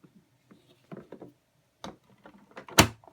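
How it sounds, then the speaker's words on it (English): The bag door of a 1990 Electrolux Super 614 vacuum cleaner is pushed shut: a few soft handling taps, then a sharp, close latch click near the end. "And then the bag door closes."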